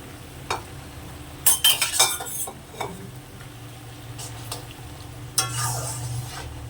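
Shrimp tipped into a pot of cooked gimi greens and stirred, a burst of clinks and scrapes followed by intermittent utensil taps over a low steady sizzle, close and moderately loud.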